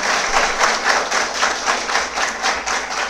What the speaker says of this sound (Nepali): उहाँलाई हामी सबैको तालीको माध्यमद्वारा स्वागत गर्न चाहन्छौँ।